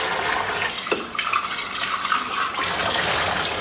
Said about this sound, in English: you might as well just fill the vase while it's out